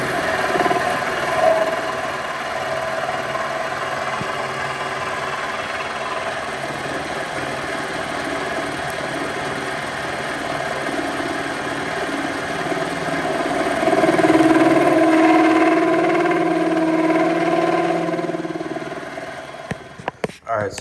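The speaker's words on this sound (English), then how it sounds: "I cleaned this up the best I could in the lathe" A metal lathe turns down an old steering column shaft being adapted for rack and pinion, giving a steady, close motor hum with a tonal whine that swells toward the end, then stops with a few clunks.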